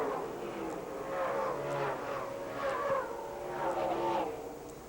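NASCAR Southwest Tour race cars roar past on the track at Tucson in 1996, engine tones swelling and fading in repeated waves under steady commentator talk.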